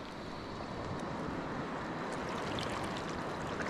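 Steady roar of surf washing against the shore, continuous and fairly loud, with wind rushing across the microphone throughout.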